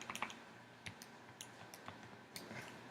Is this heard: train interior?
no